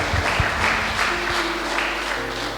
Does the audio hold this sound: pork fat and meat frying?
no